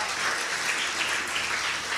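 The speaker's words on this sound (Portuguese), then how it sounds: "Aplauda mais forte ao Senhor." A church congregation applauds during a worship service, a steady, fairly even wash of many hands clapping, fairly close and unbroken for two seconds.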